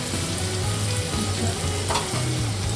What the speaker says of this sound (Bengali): আর দিচ্ছি হচ্ছে ক্যাপসিকাম কুচি। দিয়ে একটু ফ্রাই করবো।